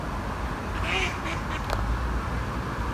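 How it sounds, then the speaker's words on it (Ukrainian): A single duck quacks a few times nearby over steady outdoor background noise. "Це точно вона щось на качиному сказала."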